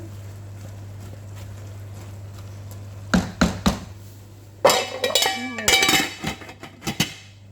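A lid going onto a pot of spinach and chickpeas sounds as a few sharp clattering metal clinks and knocks, a cluster around three seconds and a busier run near five to six seconds, over a steady low hum.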